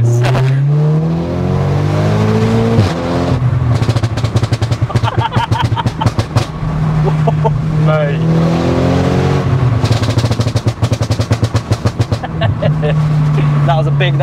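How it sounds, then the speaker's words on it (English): A tuned 410 bhp Audi S3 with a loud exhaust revs hard in repeated bursts, each rise followed by rapid crackling pops and bangs as the revs fall, close and dominant, with occasional voices in between. "Just hit, let the exhaust do its thing."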